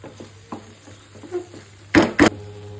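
Dried bamboo-leaf fish and khorkon leaves cooking down in a pan give soft intermittent clicks and light sizzles, then two sharp, loud scraping stirs in quick succession near the end; no voices.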